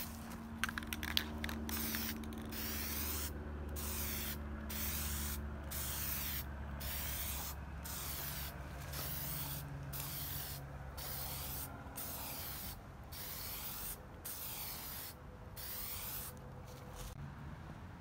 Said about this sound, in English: I sprayed the fender using some primer filler.